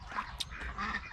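Ducks kept in a small backyard pen with turkey and chickens quack faintly, a few short nasal calls over a quiet outdoor background.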